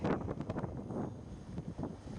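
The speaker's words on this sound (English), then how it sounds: "It's windy today" Gusty wind buffets the microphone in low rumbling bursts in an open farm field, rough and close, with no voices.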